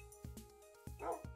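Minecraft dogs bark and yip in quick, sharp bursts, several short barks spaced irregularly, with a brief whimpering whine in between, heard clearly and up close.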